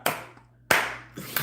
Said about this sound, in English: Y'all clap that thing on up.